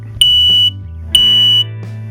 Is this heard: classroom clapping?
no